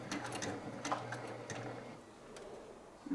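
A sewing machine stitches binding onto an embroidery project, a soft, quiet run of rapid ticking needle strokes with small pauses, alone with no voices.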